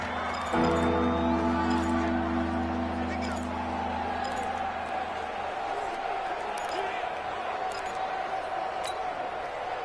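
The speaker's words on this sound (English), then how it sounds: "the crowd getting into it as we come up on a big 3rd down" Stadium crowd noise from a football video game on PS4, a broad steady roar of cheering throughout, with musical tones and a voice over it early on, continuing under ongoing talk.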